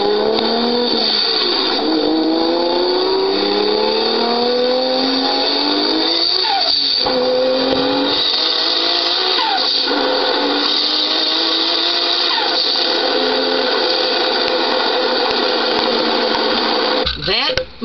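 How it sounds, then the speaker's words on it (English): Single-turbo 2JZ-swapped Chevy Camaro making over 1000 horsepower, its engine revving hard and continuously close by, rising and falling in pitch through repeated pulls. "the sound of a single turbo 2JZ Chevy Camaro 1000 plus horsepower"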